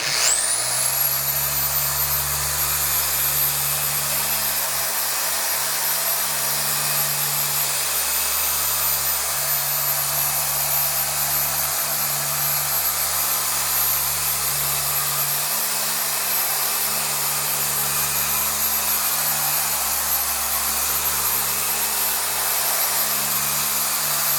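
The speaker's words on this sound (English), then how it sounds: "that's the carpet brush, and it's very aggressive" Aggressive carpet brush tool scrubbing and digging into carpet, a constant loud whirring drone with a steady high whine throughout, uninterrupted and close.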